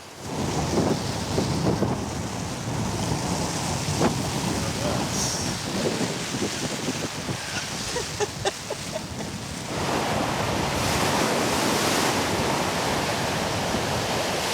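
Heavy waves break on South Beach in wintry, rainy weather, a continuous loud roar of surf with rising and falling surges and a burst of wind noise near the end.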